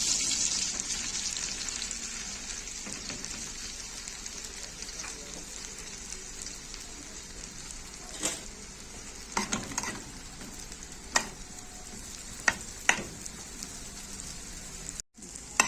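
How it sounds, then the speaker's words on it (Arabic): Bread fries in melted butter and ghee in a pan, giving a continuous close crackling sizzle with occasional sharp pops and clicks of stirring. "بقلب بقى العيش بتاعي كده يتحمص شويه كده وياخد لون"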